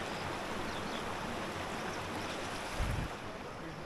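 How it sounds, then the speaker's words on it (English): A small mountain gill in Cumbria flows beside a walled footpath, giving a steady, close broadband rush of water with a brief louder surge near the end and no talking. "Got a lovely little gill river."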